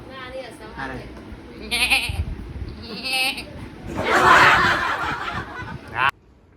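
A person imitates a goat's bleat with a few wavering, nasal calls amid snickering and laughter from companions at a hotel, ending in a burst of loud giggling before cutting off.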